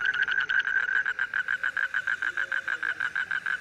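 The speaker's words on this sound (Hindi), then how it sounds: "और जो ये इरिटेटिंग सी आवाज़ आ रही है ना मेंढकों की" Frogs croak in a fast, steady pulsing rhythm, a loud repeated trilling call that carries on without pause.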